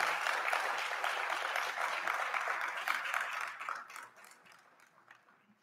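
Audience applause for a keynote speaker on the second day of a technology incubator event in Haiti, dense sustained clapping from a crowd that gradually thins and fades out toward the end.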